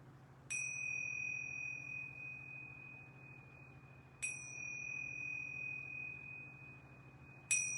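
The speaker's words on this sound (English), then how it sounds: "I'm going to ring these yoga bells 3 times" Yoga bells ring three times, each a bright, clean strike followed by a long, pure sustain that fades slowly. The strikes come about four seconds apart over a quiet room hum.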